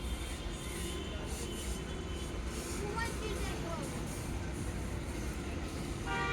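A metro train rumbles through a station, its steady low roar and rattle filling the space at a fairly constant level, with faint voices in the background.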